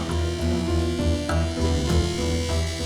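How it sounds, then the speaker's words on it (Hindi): A malfunctioning air conditioner in a bank office gives off a steady, loud electric buzz with a low hum underneath, droning on continuously without any pause. "कल मिस्टर गिल ने एसी ठीक करवाया था और आज फिर से वही आवाज"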